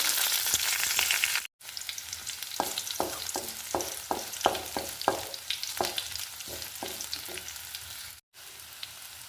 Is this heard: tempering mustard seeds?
yes